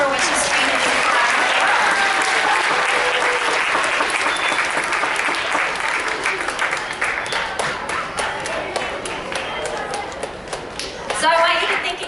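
Grade 5 and 6 students at a school assembly break into sustained applause that fills the room, loud and steady at first, then tapering to scattered claps, with voices mixed in.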